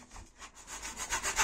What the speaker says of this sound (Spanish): lijar un poquito para darle un poco de porosidad a la cinta americana.